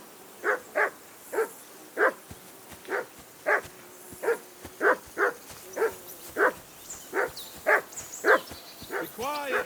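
A dog in Kingdom Come: Deliverance II barks repeatedly at a steady rhythm, about a dozen sharp, moderately close barks with short gaps between them.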